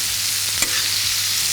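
Steaks are basted with sizzling thyme and garlic butter in a pan for a Philly steak sandwich, giving a steady close frying hiss with one brief louder spoon clink partway through, and no one talking.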